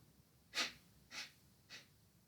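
Three short, sharp inhales at a steady pace during a qigong bear-fighting exercise, each a close, breathy hiss that grows slightly softer than the one before, with quiet pauses between them.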